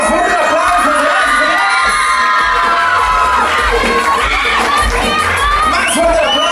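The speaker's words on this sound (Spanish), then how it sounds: "Y más fuerte el aplauso para Jimena y sus papás." A crowd at a quinceañera cheers and whoops over sustained applause, loud and dense throughout, with shouting voices mixed into the continuous roar.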